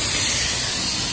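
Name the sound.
pressure cooker hissing steam while cooking vegetables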